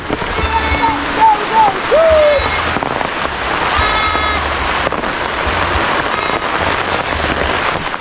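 Goats being brought home early from grazing bleat several times outdoors, drawn-out wavering calls spaced a second or two apart over heavy wind rumble.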